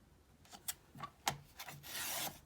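A dulling blade on a paper trimmer slices through a page, giving a few short rasping scrapes with soft clicks, ending in a longer brighter swish, heard close and alone.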